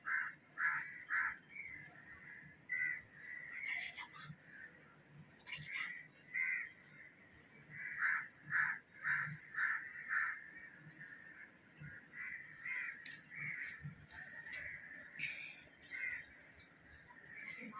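Crows cawing in a home garden, repeated harsh caws coming in irregular bursts throughout, moderately near and fairly faint, with no talk over them.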